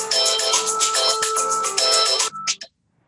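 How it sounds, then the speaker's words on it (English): A loud mobile phone ringtone plays a bright repeating electronic melody close by for over two seconds, then cuts off abruptly into silence. "My phone just went and it distracted me."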